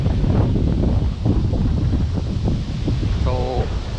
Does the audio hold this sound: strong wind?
yes